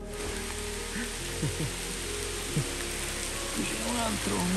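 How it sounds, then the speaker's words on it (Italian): Rain patters steadily on leaves in a dark wet forest during a porcini mushroom hunt, a constant close hiss with someone briefly talking over it. "Senti come piove."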